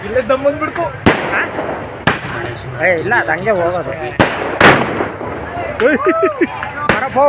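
Firecrackers burst loudly during a Ganesh festival immersion, several sharp close bangs spaced about a second apart, mixed with voices talking and shouting nearby.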